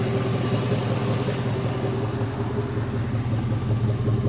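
A 2002 Jeep Grand Cherokee engine idles steadily through an aftermarket exhaust with a low, even rumble, close by and continuous with no talking.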